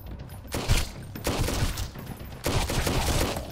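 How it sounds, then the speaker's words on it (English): Enemy pirates firing a machine gun in the survival game Sunkenland, dense rattling bursts in two or three waves, loud and rough, with continuous crackling between volleys. "They have a machine gun"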